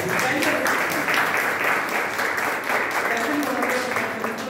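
Applause from a theater audience at a drama club performance, a thick continuous patter of clapping that stays fairly loud, with voices and murmuring mixed in beneath it.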